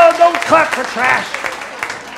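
An audience at a cowboy-themed Sunday gathering gives scattered, moderate clapping, heard beneath voices and laughter.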